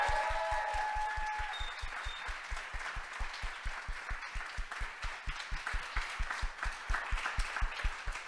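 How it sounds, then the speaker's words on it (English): A crowd at a Le Wagon coding bootcamp demo day in Montreal applauds the students, a steady wash of clapping over a regular pulsing low beat that grows more prominent as it continues. "All the students, they deserve a huge round of applause."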